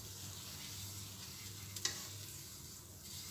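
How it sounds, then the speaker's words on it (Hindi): Besan (gram flour) stirred in ghee over a low flame gives a faint, soft frying hiss, with one brief scrape of the spoon against the pan near the middle. "तो हुण आपां बेसण नूं जिहड़ा मिक्स करांगे अच्छी तरीके दे नाल"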